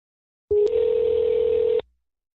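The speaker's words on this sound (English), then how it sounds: "Oh, it's ringing." A Skype phone line gives a single steady electronic tone lasting just over a second, loud and close, with a brief click at its start and no voices.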